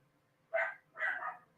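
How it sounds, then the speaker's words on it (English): A female dog barks twice indoors, two short muffled woofs in quick succession, close and moderately loud over a quiet room hum. "She must be barking at her reflection in the TV again"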